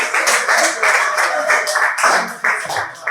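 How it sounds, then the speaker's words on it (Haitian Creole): Audience clapping in a training session, a dense continuous patter of many hands close by, swelling and easing in waves for a few seconds, with a faint voice underneath. "Merci, applaudissez au moins, applaudissez au moins."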